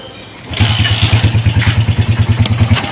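A Rusi 175 motorcycle engine idles close by with a steady, rapid, loud chugging pulse that starts abruptly and continues evenly.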